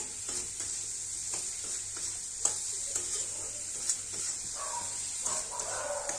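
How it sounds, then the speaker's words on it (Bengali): Bacha fish sizzles in hot oil while being sautéed and stirred in a pan for a spicy Bengali curry, with a constant fry hiss broken by scrapes and clacks of the spatula. "ভালো করে এবার কষিয়ে নেব"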